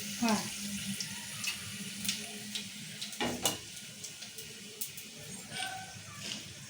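Dried chillies fry in hot oil for puntikura pachadi: a soft, steady sizzle with faint crackles and an occasional clink, quiet throughout.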